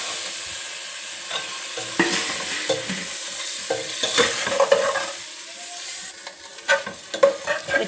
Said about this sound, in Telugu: ఎగ్స్ ఇట్లా మంచిగా ఫ్రై అయినాయి కదండి.